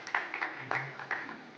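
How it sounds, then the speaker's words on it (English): Scattered, sparse audience clapping in a hall during a plenary session of the Nepal Investment Summit 2024, a few distinct faint claps over about two seconds. "a big thundering round of applause is sure to energize all of us"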